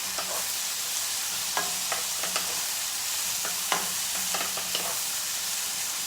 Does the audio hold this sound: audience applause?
no